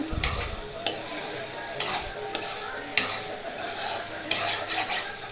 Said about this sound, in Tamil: இப்போ எல்லாத்தையுமே நல்லா மிக்ஸ் பண்ணி விட்டுக்குங்க